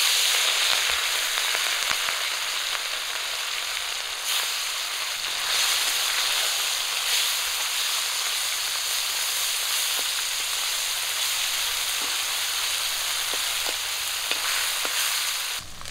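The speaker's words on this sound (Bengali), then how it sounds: "তেল গরম হয়ে গেছে, মাছ দিয়ে দিচ্ছি।" Fish sizzling steadily in hot oil in a home kitchen, a continuous loud crackle and hiss with small pops, no talking.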